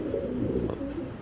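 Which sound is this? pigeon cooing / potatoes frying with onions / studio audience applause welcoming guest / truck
pigeon cooing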